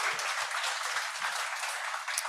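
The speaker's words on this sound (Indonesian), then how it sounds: "Kasih aplaus dong" Audience applause at a gathering, a dense, steady wash of many hands clapping that fills the whole stretch at an even loudness, with no pause.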